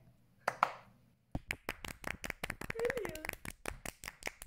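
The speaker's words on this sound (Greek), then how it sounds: "Χειροκροτήστε!" A single person's hands clap rapidly and sharply at close range, a fast irregular run of crisp slaps after a brief spoken moment and a pause.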